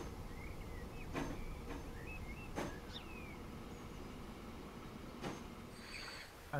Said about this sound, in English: We're just bringing the train in.